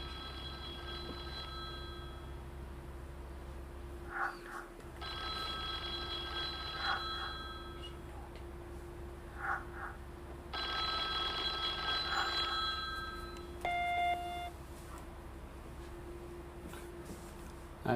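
Telephone ringing in The Da Vinci Code video game on PS2, a repeated electronic ring in bursts with short pauses between them over a steady low hum, with no talking.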